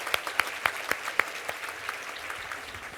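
An award ceremony audience applauds in a steady, dense clatter of many hands clapping, fairly close and continuous throughout, with no talking.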